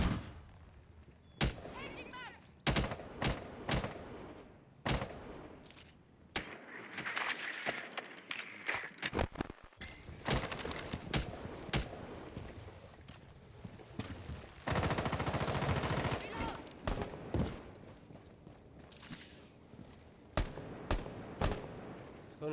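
Bursts of gunfire from a Rainbow Six Siege championship match, with Thermite firing on Ela in the Hall of Fame map, sharp shots and rapid volleys scattered throughout amid game effects and commentary.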